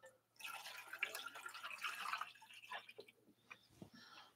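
Water poured into the reservoir of a Moccamaster coffee maker, a steady trickling, splashing stream at close range that runs for a few seconds and then tapers off, with no talking.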